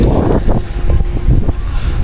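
Strong gusting wind buffets the microphone throughout a bicycle ride on a road wet from recent rain, a loud, steady low roar with irregular bursts.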